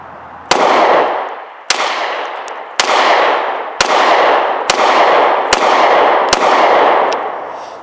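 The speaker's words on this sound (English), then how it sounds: "it ran through the rest of that mag, locked back on that last round" A mud-soaked Taurus G2C pistol, still gritty inside, fires the rest of a muddy magazine: seven loud, sharp shots spaced roughly a second apart, each ringing out into a long reverberant tail.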